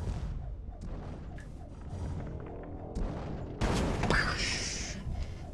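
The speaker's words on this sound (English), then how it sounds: "there's our sacrifice, and the temple is about to go boom" Temple building blowing up in the strategy video game Netstorm: Islands at War, a sudden loud burst with a glassy, shattering crash that rises over busy battle noise and lingers as crackling debris to the end.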